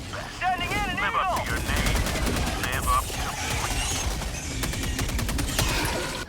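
Assault rifle gunfire in the video game Helldivers 2, a dense, loud, sustained automatic burst mixed with game sounds and whistling effects, steady throughout.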